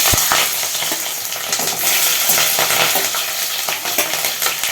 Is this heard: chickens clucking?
no